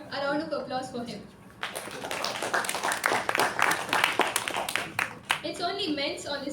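A Toastmasters club audience breaks into brief applause between stretches of speech, the clapping rising in the middle for a few seconds before a voice resumes.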